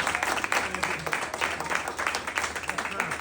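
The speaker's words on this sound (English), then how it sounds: "Clap for her." Audience applause at an open mic night, a dense burst of clapping from a small crowd that carries steadily through the short stretch at moderate loudness.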